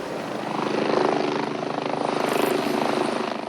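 A rescue helicopter flies over storm-flooded Vendée and Charente-Maritime, its rotor chopping loud and close in a steady pulsing throb that swells and fades slightly.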